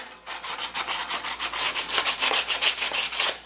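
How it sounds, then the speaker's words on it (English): Hand sanding with sandpaper on a block or sponge during a Husqvarna mower deck mod: steady back-and-forth rubbing strokes, about six per second, close and clear with no talk. "you could take a small bit of sandpaper, sand and block, sand and sponge, whatever"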